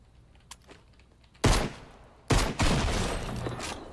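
A double-barrel shotgun fires at bots in Fortnite: two loud, close blasts about a second apart, each trailing off into a noisy decay, after faint earlier clicks and thuds.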